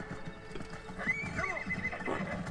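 A horse in the Red Dead Redemption video game whinnies loudly mid-clip over a busy bed of clopping hooves and game ambience, with a second fainter neigh near the end.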